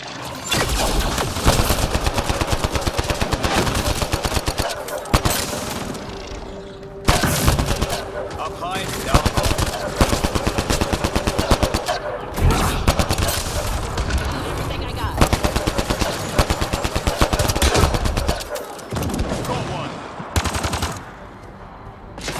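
Sustained automatic gunfire from enemies in Mass Effect Andromeda on PS4, with rapid volleys and heavy bursts running nearly nonstop, broken by a few brief pauses.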